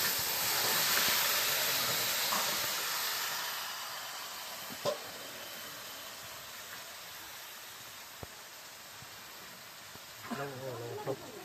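Marinated chicken is tipped into a hot wok with a loud, steady hiss of sizzling that slowly fades over several seconds, followed by a few faint clinks and quieter frying.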